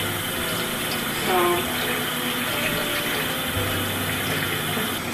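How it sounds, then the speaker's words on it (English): Cold tap water pouring steadily over cooked tapioca pearls in a sink, a constant close rushing splash with a brief gurgle partway through. "Now I'm supposed to rinse it with cold water to remove the starch and stuff."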